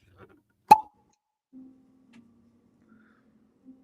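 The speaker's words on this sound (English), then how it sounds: "let's check out my cork pop. Let's see how it sounds" A single sharp cork pop from a bottle, loud and close, followed by a faint low hum and a few soft ticks in an otherwise quiet room.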